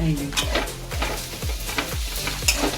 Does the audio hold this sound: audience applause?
no